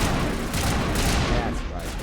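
Game gunfire from a firefight in Mass Effect 1, with a Marine facing mercenaries: dense, continuous bursts of shots fill the whole stretch at high volume, with voices mixed in under the shooting.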